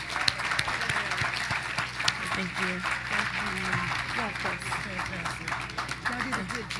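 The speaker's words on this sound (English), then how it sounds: "Could we all give them a round of applause again?" Audience applause for panelists at a legislative day conference, moderate and continuous clapping at some distance, with a voice speaking briefly over it.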